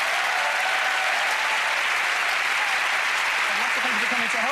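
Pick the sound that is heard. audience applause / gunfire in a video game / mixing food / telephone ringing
audience applause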